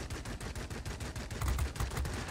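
Russian Lavochkin La-15 fighter cannons fire in World of Warplanes, a rapid rhythmic stream of heavy bursts with thumping low impacts, continuous for the whole stretch.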